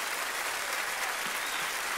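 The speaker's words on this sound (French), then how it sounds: "applaudissez Giro et Sot" Dense, loud audience applause after a live mime performance on a television variety show, a thick unbroken roar of many clapping hands that stays constant throughout.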